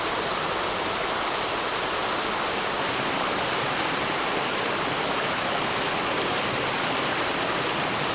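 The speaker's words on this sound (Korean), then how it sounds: "파로호 상류 계곡." A mountain valley stream above Paro Lake, its water rushing and splashing in a steady, dense wash that holds at the same level throughout, close and continuous with no voices.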